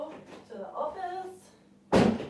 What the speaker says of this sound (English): shutting the door.